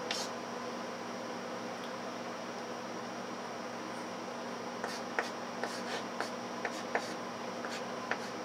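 Equations are written out on a board: a faint steady room hum, then a run of short scratchy marker or chalk strokes in quick, irregular succession during the later seconds.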